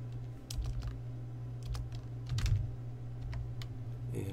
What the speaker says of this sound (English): I'm going to type in age.